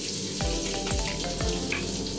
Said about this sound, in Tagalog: gigisa lang natin ulit ang bawang, sibuyas, tsaka yung siling haba